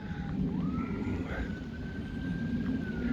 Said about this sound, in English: You can hear sirens because Victoria Hospital's just up that way